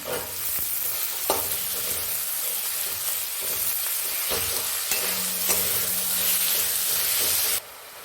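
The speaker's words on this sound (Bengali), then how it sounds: "আমার টমেটোটা রসুনটা ভাজা ভাজা হয়ে গেছে" Tomatoes and garlic frying for hariyali chicken sizzle steadily and up close in a pan, with intermittent stirring scrapes throughout and no talking.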